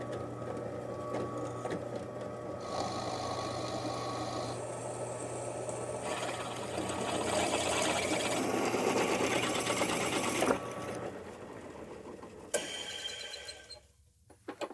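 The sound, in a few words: drilling holes in steel legs for DIY edge sander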